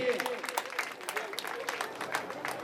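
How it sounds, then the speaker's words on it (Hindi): An audience applauds at a Mahadev temple festival gathering, dense continuous clapping at moderate distance, mixed with crowd voices. "जोरदार तालियां गुरुदेव के लिए।"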